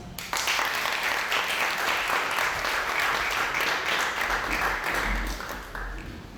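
A crowd applauds after a slam poetry performance at a competition at the Centre Nelson Mandela, the clapping starting suddenly and continuing as a thick, even burst that eases slightly toward the close.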